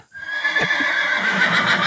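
A horse in Red Dead Redemption 2 gives a loud, drawn-out whinny close up, with a faint clip-clop of hooves underneath and no speech over it.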